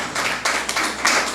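An audience clapping in a church discipleship training session, a brief steady patter of many hands, loud and close, with no voices over it.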